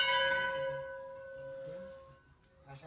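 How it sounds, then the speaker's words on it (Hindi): Temple bells hung at the entrance of a hill shrine ring out with a bright metallic strike, the tone lingering and slowly fading over a few seconds under faint background activity. "ये घंटियाँ यहाँ से एंट्रेंस से ही घंटियाँ लगी हुई हैं यहाँ पे"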